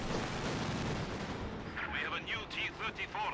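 Panzer IV tank cannon fire in the Company of Heroes 2 video game: a cluster of sharp, booming shots in quick succession over dense battle noise, following a stretch of low rumbling ambience.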